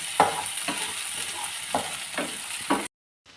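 Crushed ginger, garlic and chili fry in a pan with a steady sizzle, broken by several rhythmic scraping strokes of a spoon stirring, close up, before a brief cut to silence; no one speaks.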